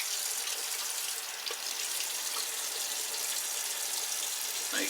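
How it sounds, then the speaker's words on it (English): Hot water runs from a tap in a steady, hissing stream as a razor is rinsed beneath it, close and continuous with no voices. "Just rinse it off under hot water."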